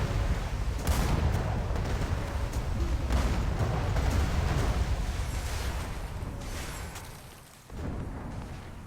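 Dense, sustained cannon barrage in Archeage: Unchained during the Mistsong Banquet event, with flame cannons firing in a continuous rumbling roar of overlapping booms that dips briefly near the end before surging back.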